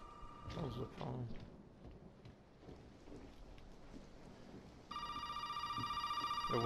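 A telephone rings in the horror game Resident Evil 7, its loud, pulsing electronic trill cutting in partway through and repeating steadily, after a stretch of rain-like ambience with a brief voice near the start.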